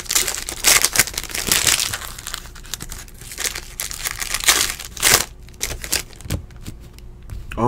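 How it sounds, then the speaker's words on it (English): Crinkly foil wrappers of basketball trading card packs are torn and crumpled up close, in repeated bursts of tearing and crackling with brief pauses between. "Almost done opening packs here."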